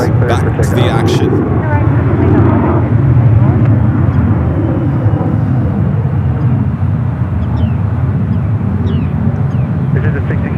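Airliner departing northbound from SFO, a loud steady engine roar with wind buffeting, continuous throughout with a voice talking over it near the start.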